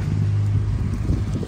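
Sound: strong cyclone wind at Balneário Camboriú

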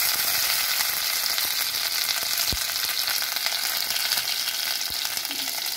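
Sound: cumin seeds and ginger spluttering in hot oil

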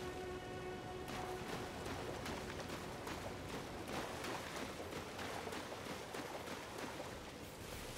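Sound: rain falling in Elden Ring video game

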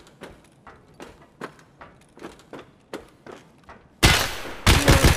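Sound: gunshots in a video game

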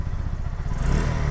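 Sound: Bajaj Pulsar NS160 motorcycle engine running after kick start

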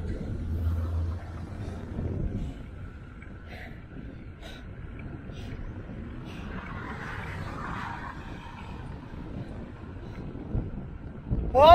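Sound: wind

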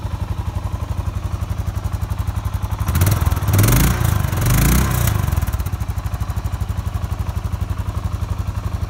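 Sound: 650cc cruiser motorcycle engine

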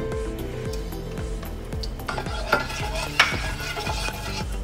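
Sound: ghee sizzling while dry nuts are stir-fried

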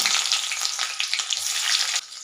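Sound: onions frying in hot oil

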